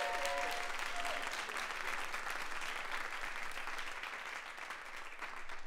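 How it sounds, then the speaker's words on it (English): Audience applause fills a senior recital at a university hall, dense steady clapping from many hands sustained throughout at moderate level, with a brief tonal note at the start. "Can we give them another round of applause?"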